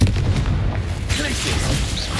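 A Confringo fire spell blasting in Hogwarts Legacy, a loud booming burst that dominates the short clip, with a low rumble continuing underneath.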